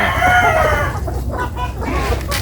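Laying hens clucking and cackling loudly and close by, a continuous busy chorus of several birds.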